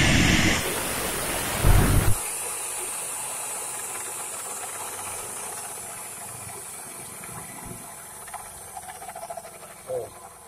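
A metal pipe being cut, a loud harsh grinding burst in the first two seconds that gives way to a softer, fading hiss with small clanks toward the end.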